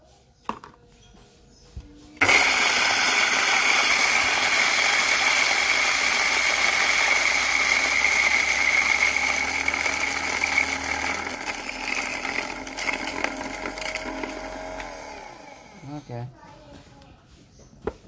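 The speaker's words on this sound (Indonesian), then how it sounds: "Kita giling. Saya di gilingan 4 ya." An electric coffee grinder set to grind size 4 mills 16 grams of rasamala coffee beans, a loud steady whirring grind that starts abruptly and runs for about thirteen seconds before winding down.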